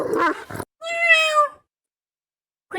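A single clear, high meow from a cat, following a short burst of noise, then silence.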